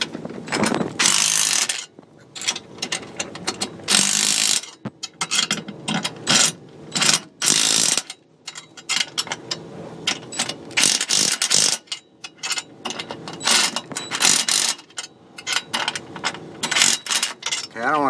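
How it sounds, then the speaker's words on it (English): Close, loud bursts of ratchet clicking come as bolts are tightened on a broken, bent lower A-arm of a Maverick X3, with short pauses between the runs of clicks and some voices nearby. "We're gonna get these bolts snugged up."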